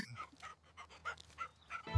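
A puppy pants in quick, soft rhythmic breaths, faint and close, with a brief louder rustle at the very end.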